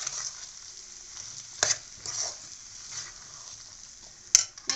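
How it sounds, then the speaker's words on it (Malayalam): Grated jaggery being stirred into a simmering koottu curry, soft scraping spoon strokes over a low steady sizzle with a few sharper clinks near the end. "ഇനി നമുക്ക് ആ ശർക്കരയൊന്ന് നന്നായിട്ടൊന്ന് മിക്സ് ചെയ്യാം"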